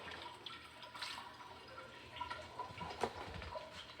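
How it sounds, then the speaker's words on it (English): Water poured into a blender holding blended peppers to rinse it out, a faint splashing trickle with small drips and sloshes in a home kitchen, quiet and uneven. "Just gonna add a little bit of water"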